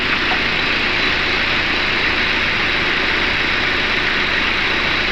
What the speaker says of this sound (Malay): Enjin tengah hidup tengok belting hidup